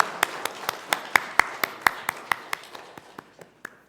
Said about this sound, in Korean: 영광의 박수 올려드리기를 원합니다